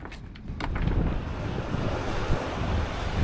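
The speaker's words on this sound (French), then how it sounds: "Bon, ça y est, le vent est revenu." Strong wind roars steadily over the microphone aboard a sailboat on an Atlantic crossing, with the wash of waves and surf beneath it and no voices.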